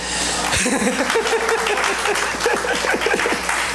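Steady applause from a church congregation during a sermon fills the whole stretch, with scattered voices and a few light laughs rising over the clapping.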